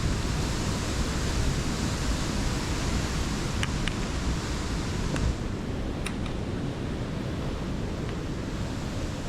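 Steady, full broadband rush of a waterfall close by in a wooded ravine, continuous and loud with no talking, a few faint clicks sitting on top.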